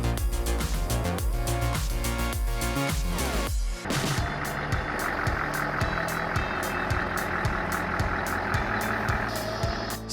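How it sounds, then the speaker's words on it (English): A Scania truck unloading firewood gives off repeated reversing beeps over a rumbling engine and heavy clanking, loud and close, with a busy, cluttered start before the beeping settles into a regular rhythm. "Scania not only transports firewood, but also masters the unloading process"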